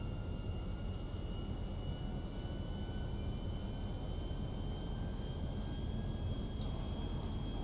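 Steady broadband roar of a jet aircraft in flight in GTA V, a continuous even drone with faint high tones running throughout, no voices.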